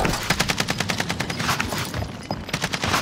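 Rapid automatic gunfire in a Call of Duty match, loud and close, with bursts of tightly spaced shots that pause briefly and then resume.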